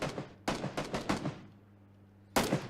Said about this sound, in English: Some serious rounds coming in.